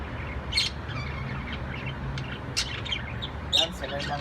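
A female parakeet chirps and tweets in short bursts three times, close by, over a low steady background hum, with a faint voice present.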